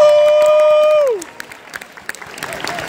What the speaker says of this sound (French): je propose que vous vous applaudissiez parce que ça vaut la peine